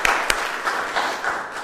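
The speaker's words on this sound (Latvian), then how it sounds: "Tiešām vēlreiz gribu, lai skanīgi aplausi tev, Marika." An audience breaks into applause, with sharp claps at first that settle into a brief, moderately loud patter.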